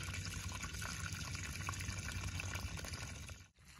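Water rushes steadily through a pond siphon hose in a constant, close gushing stream that cuts off abruptly near the end.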